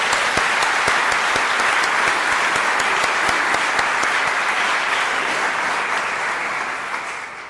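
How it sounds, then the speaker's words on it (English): A town meeting audience claps in a round of applause, a dense, steady wash of many hands sustained throughout and tapering slightly at the end, with no talking. "join me in a round of applause"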